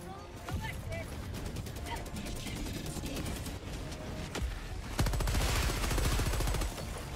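Light machine gun firing in Helldivers 2, sustained rapid bursts of automatic fire mixed with game effects, growing louder and denser toward the end, with a voice talking over it.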